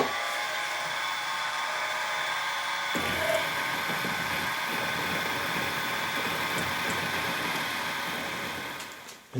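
Steady whine of a lathe taking a final fine-feed cut while machining the front frame of a Farm Boy hit-and-miss engine, a continuous mechanical drone that thickens after a few seconds and runs unbroken, close and fairly loud, with no talk.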